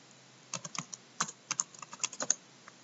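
Quick, light keystrokes on a computer keyboard while logging in to RetroPie on a Raspberry Pi, a short irregular burst of about a dozen clicks, close and fairly soft with no talking.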